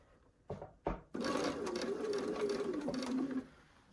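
A sewing machine stitches a quilt piece for a Stars & Snowballs quilt, starting after two short clicks and running in a steady close whirring burst for about two seconds before stopping.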